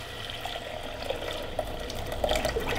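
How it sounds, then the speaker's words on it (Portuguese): Bean cooking water pours steadily into a pot of simmering soup base for bean and pasta soup, a continuous close splashing trickle with no talking. "Agora eu vou vir aqui com aquela água do feijão e vou colocar aqui, ó."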